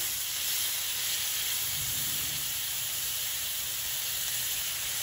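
Onions, garlic and green onions frying in a skillet give a steady, even sizzle and hiss that holds close and constant, with no voices over it.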